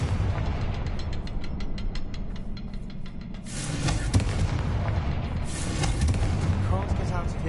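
A Confringo blasting spell goes off in the Hogwarts Legacy video game, booming explosions that overlap with a dense, continuous rumble of game music and effects, loud and close.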